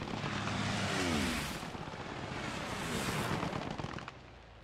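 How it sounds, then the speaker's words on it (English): Propeller plane passing overhead in the World War II shooter Post Scriptum, a broad engine roar that swells and fades over several seconds amid distant battle noise. "Yep, there's a plane."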